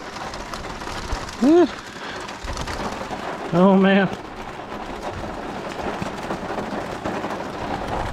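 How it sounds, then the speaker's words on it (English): A steady, dense wash of heavy rain fills the whole clip, with a voice briefly exclaiming twice over it. "oh yeah, it's raining good"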